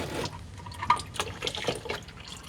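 Engine oil drains from a Toyota Corolla S into a catch can, a continuous close liquid pouring and trickling with small splashy drips.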